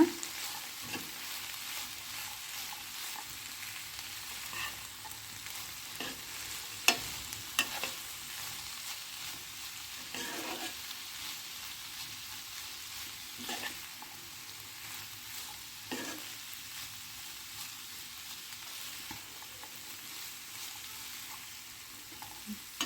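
Grated coconut and finely chopped coriander being stirred into frying ridge gourd palya, a steady soft sizzle with scraping spoon strokes at intervals, close and moderately quiet, no talking.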